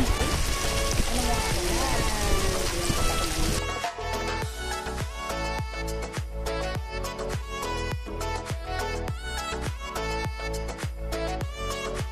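Steady rain pattering on a surface at a beach resort in Zambales, first as a dense broadband wash, then with a rhythmic patter of drops continuing throughout.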